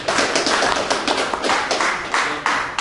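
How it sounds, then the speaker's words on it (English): Audience applause at a college conference: a short burst of crowd clapping with sharp, irregular taps, fairly close and loud, with no talk over it. "let's give him a nice round of applause."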